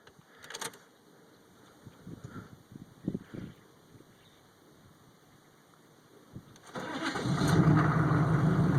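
A 6.5 diesel truck engine cranks and fires in a cold start at about 60 degrees, catching near seven seconds into a loud, steady rumbling idle after quiet handling noises.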